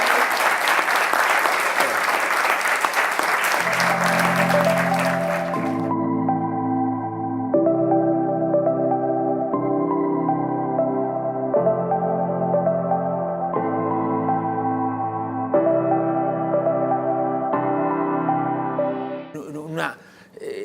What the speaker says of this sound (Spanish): Y un fuerte aplauso para...